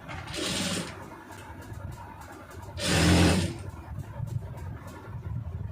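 A sewing machine stitches a round neckline on a garment in two short runs, each a whirring burst of under a second separated by a pause with soft fabric handling noise.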